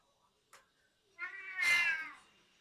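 A cat gives a soft, drawn-out meow that rises and then fades, preceded by a faint short chirp, heard close in a quiet room.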